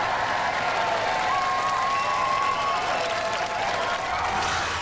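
Studio audience applauding and cheering a competing robot at a robot combat show, a dense, steady wash of clapping from a large crowd that holds loud and unbroken throughout, with a faint tonal whine running under it.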